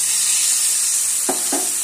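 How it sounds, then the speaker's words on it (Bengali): Water splashed into hot oil left over from frying potatoes bursts into two quick sizzling hisses near the end, over a steady kitchen hiss, with no voices. "আলু ভাজার পর যে তেলটা বেঁচে গেছে ওর মধ্যে আমি জল অ্যাড করব"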